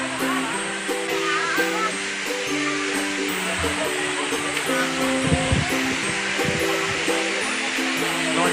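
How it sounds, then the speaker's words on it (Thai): A steep waterfall on Koh Samui, Surat Thani, gives off a steady, loud rushing roar that fills the whole stretch, with faint voices mixed in. "น้ำตกสวยงามมากครับเป็นน้ำตกแบบสูงชันลงมานะครับ"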